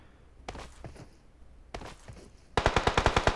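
Automatic rifle fire in the mobile shooter PUBG Mobile, played on an iPad Pro: a few soft shuffling steps, then a loud, rapid burst of about a dozen evenly spaced shots close by.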